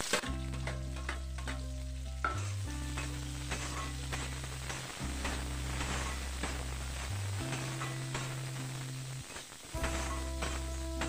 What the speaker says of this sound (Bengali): এটাকে একটু ভেজে নেব, পেঁয়াজ কাটা পেঁয়াজগুলো দিয়ে দেব।